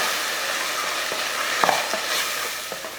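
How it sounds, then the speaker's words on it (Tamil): Masala spice powders, including coriander powder and chilli powder, stirred and sautéed in a pan for chicken salna, giving a steady soft sizzle with occasional scraping clicks of a spoon, close and unaccompanied by speech. "மசால் போட்டு இது நல்லா வதக்கியாச்சு."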